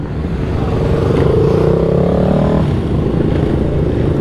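A cruiser motorcycle doing a wheelie makes a loud, rumbling engine note that rises briefly in pitch as it revs, then settles back into a steady, close roar.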